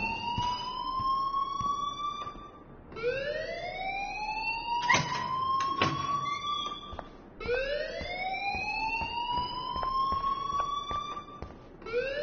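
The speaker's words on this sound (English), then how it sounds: "please turn off that alarm" A school alarm siren in Life is Strange wails continuously, rising and sweeping in repeated cycles about every four seconds, loud and steady with no voices over it.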